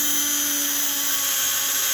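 A Flyer DC electric motor runs steadily with a loud, even, high-pitched whirring hum and tonal whine, close by and unbroken.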